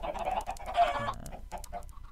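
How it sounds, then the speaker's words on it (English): Minecraft chickens cluck over and over in a chicken farm, a busy cluster of short overlapping clucks at close range with no talk. "Alright, the chickens are starting to grow up here."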